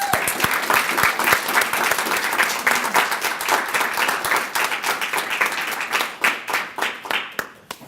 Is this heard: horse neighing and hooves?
no